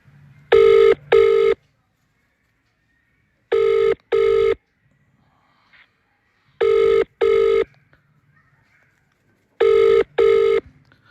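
A telephone ringback tone sounds on an outgoing call, four paired double rings spaced evenly a few seconds apart, loud and clear with quiet gaps and no one speaking.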